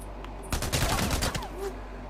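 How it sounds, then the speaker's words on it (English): Rapid SMP-9 submachine gun fire bursts out in the video game Days Gone over a steady low ambient rumble, a dense, fast volley lasting about a second. "then you get this game, SMP-9. Sounds like this."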